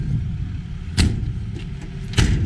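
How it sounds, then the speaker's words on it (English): A 2019 Ram 5500 Tradesman work truck with a service body idles with a steady low engine rumble close by, broken by two sharp clicks. "I have the truck running"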